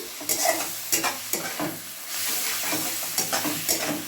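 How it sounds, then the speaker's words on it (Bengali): Ginger and garlic paste being stirred into onions frying in oil for a home-style mutton curry, with a steady sizzle under repeated close scraping strokes of a spatula in the pan, several sharp scrapes spaced about half a second apart. "আদা বাটা আর রসুন বাটাটা ভালো করে মিশিয়ে নিচ্ছি"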